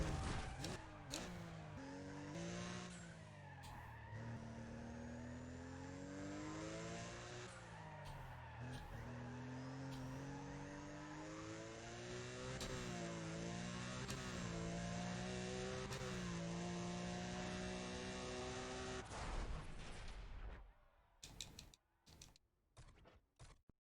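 A video game race car in Need for Speed: ProStreet roars loudly through drifting, its engine rising and falling in repeated revving sweeps with tire noise, before cutting to brief fragments at the end.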